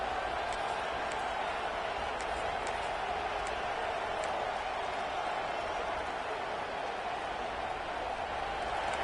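Steady roar of a stadium crowd at a Florida State versus Ohio State college football game, a continuous dense wash of voices holding at one level throughout with no single voice standing out.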